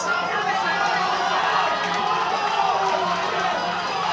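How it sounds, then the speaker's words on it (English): A dense, steady roar from a crowd at a Lethwei bare-knuckle fight fills the whole stretch, loud and unbroken, with a mass of voices cheering and shouting together. "The crowd very much behind their man."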